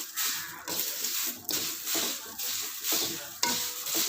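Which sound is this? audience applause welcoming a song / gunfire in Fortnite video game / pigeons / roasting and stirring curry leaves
roasting and stirring curry leaves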